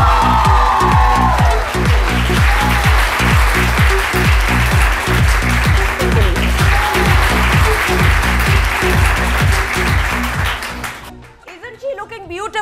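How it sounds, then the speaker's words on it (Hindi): Studio audience applause welcoming Veena Malik on a weekend talk show, sustained clapping and cheering over a rhythmic music beat, fading out near the end as voices begin. "वीना का इस्तकबाल आपकी तालियों में किया जाए"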